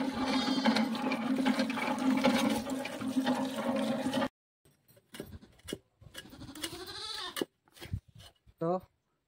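Water rushes loudly and steadily over tubers as they are washed for about four seconds, then stops. Voices talk after that, along with a few bleating animal calls.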